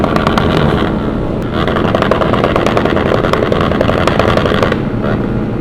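A group of six or seven motorcycles on a night ride in Berau, engines droning and revving together in a loud, continuous, close roar with no clear breaks.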